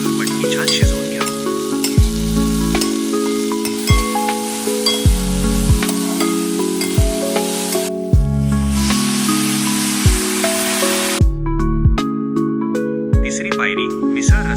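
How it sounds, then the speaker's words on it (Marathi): Sprouted moth beans frying and being stirred in hot oil in a pan, a steady close sizzle with regular scraping strokes of a spoon throughout, over faint background music. "मग त्यात 150 ग्रॅम मोड आलेली मटकी घालून 1 ते 2 मिनिटं छान तेलावर परतून घ्या"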